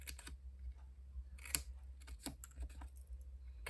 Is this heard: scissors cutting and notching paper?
yes